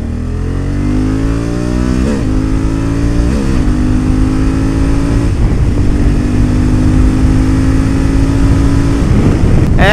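A 2021 Honda Africa Twin with manual gearbox ridden on a race track: loud engine droning under acceleration, pitch climbing then dropping at several gear shifts, with strong wind noise throughout.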